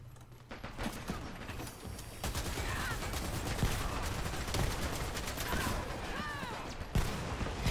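Gunfire in the online shooter Dirty Bomb, with rapid bursts and sharp single cracks scattered across the clip at moderate level over steady background game noise.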